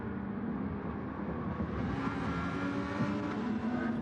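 A Lamborghini race car in a racing video game drones steadily at close range, its engine note holding a smooth, even pitch with slight rises as it runs in another car's slipstream.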